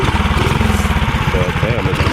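A 420cc mini bike engine fitted with a small Go Power Sports muffler runs with a steady, throbbing low rumble close by, fairly loud and continuous, with someone talking over it.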